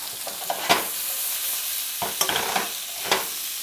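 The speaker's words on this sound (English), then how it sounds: "So we'll dump all these in, and same thing. We are just going to toss these," Sliced peppers and onions tossed in hot oil in a pan for home fries, a steady sizzle with a few louder stirring scrapes and clatters, close and alone.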